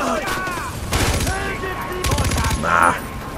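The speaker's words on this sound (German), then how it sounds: "Oh, da haben wir auch schon ein Gefecht." A firefight in Far Cry 4 on PlayStation 4 during an outpost liberation: rapid bursts of automatic gunfire crackle in two main volleys against a steady game background, with a voice talking over the shooting.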